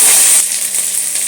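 Curry leaves, five dried red chillies and cumin sauté in hot oil for a Tamil buttermilk curry: a bright, steady sizzling hiss, loudest in the first moments, then settling to a softer continuous crackle close by.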